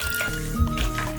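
Water is poured into a bambara nut flour mixture for okpa, giving a brief wet slosh and squelch with drips, close and soft.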